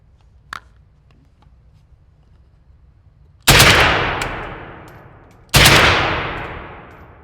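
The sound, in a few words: AK-20 rifle firing in full auto mode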